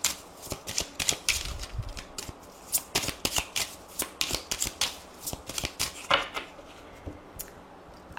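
Oracle cards shuffled for a tarot-style love reading, a run of crisp papery riffles and flicks in irregular bursts, close and fairly quiet, with no voices.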